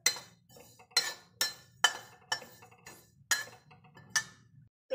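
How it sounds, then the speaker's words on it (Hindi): White sesame seeds dry roasting in a metal kadhai give a run of sharp, bright metallic clinks at a steady pace, about two per second, each fading quickly into quiet stirring, with no talking. "सूखा ही भून रहे हैं, थोड़ा सा पिंक होने तक भुनेंगे बस।"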